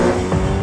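Ariel Nomad with an exposed Honda-sourced K24 engine, driven at the Nürburgring, makes a loud, steady engine drone throughout a brief burst with no talk.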